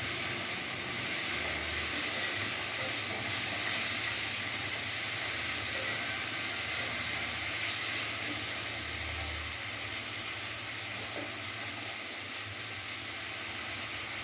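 Chopped onions sizzling in hot oil in a pan for Bengali rohu fish kalia, a steady, close, unbroken hiss of frying that holds level for the whole stretch with no voices over it.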